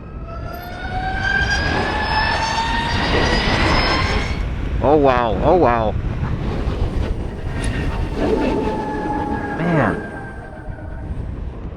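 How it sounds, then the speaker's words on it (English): Steady electric motor whine from a Zero SR/S electric motorcycle under way, with rising and falling tonal sweeps over wind rush, loud and continuous, with brief exclamations from the rider. "It's just that electric vehicle hum."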